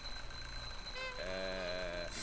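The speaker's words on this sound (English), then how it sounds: "just testing the smoke detector." In the adventure game The Journey Down, a smoke detector test sounds a short, steady electronic alarm tone lasting about a second, layered over a constant hum of background music and ambience.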